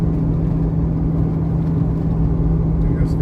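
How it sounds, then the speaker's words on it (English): A road train truck hauling big trailers goes past on an open highway, a loud, steady low engine drone with a constant hum and no pause. "Starting to get our road trains, 3 big trailers."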